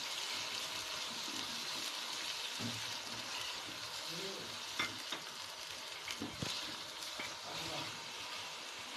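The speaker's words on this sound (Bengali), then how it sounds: "এভাবে পেঁয়াজটাকে সুন্দরভাবে ভেজে নিতে হবে, কিন্তু খেয়াল রাখতে হবে পেঁয়াজটা যেন পুড়ে না যায়।" Onion frying with ginger-garlic paste in a pan, a faint, steady sizzle and hiss with a few soft stirring scrapes and light knocks scattered through.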